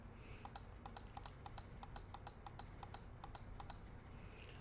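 Rapid clicks of typing on a computer keyboard, likely a Mac keyboard with Option and cursor keys, in an irregular steady patter of close, crisp keystrokes in a quiet room.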